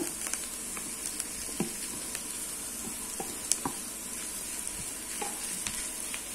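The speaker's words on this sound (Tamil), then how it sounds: "இப்போ இந்த வெங்காயம் கொஞ்சம் வதங்கட்டும்" Onions and mashed potato sizzle quietly in a pan while a spoon stirs and scrapes through them, with scattered soft clicks and pops over a steady hiss; faint and close, with no talk.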